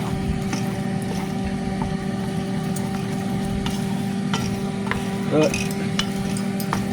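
Flour-coated beef browning in a pot for beef bourguignon, a steady sizzle with spoon scrapes and light clinks as it is stirred, and a steady hum underneath.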